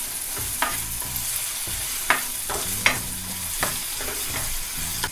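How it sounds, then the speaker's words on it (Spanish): Onion frying in melted butter, stirred with a spoon in a pan: steady close sizzle with a few sharp scraping stirs. "le pongo la cebolla para que se acaramelice un poquito y la revolvemos"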